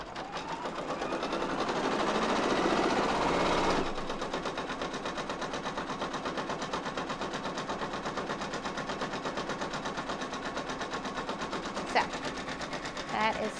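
Embroidery machine stitching an in-the-hoop tooth fairy design, a steady rapid mechanical chatter running throughout, slightly louder and busier for the first few seconds, with faint talk underneath.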